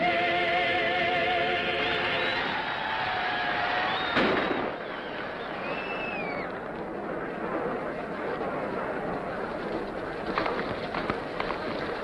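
A single sharp gunshot cracks out midway through a scene from the 1946 Roy Rogers western Heldorado, set against a busy bed of film music and crowd noise that continues around it.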